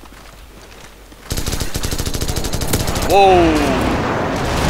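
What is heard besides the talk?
airstrike explosions and gunfire in Call of Duty 4 video game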